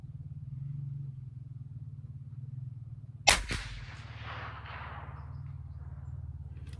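A single loud long-range rifle shot fired with Lapua ammunition at a shooting range, a sharp crack followed by a short rolling echo, set against steady low background rumble with no talking.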